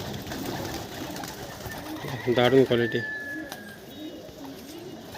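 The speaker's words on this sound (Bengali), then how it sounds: "রেগদার পায়রা না? এই ফেদার ফিদার," Pigeons in a loft give a short burst of cooing midway through, close by, while someone talks over the steady background.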